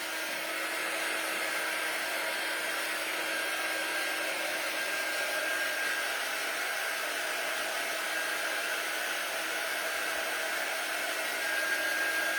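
Hair dryer blowing excess glitter off a Dollar Tree craft bunny, a constant loud even whoosh of airflow with a steady motor hum, close and uninterrupted throughout.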